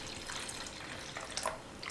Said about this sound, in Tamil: இப்போது 1/2 கப் தண்ணி சேர்த்துடலாம்.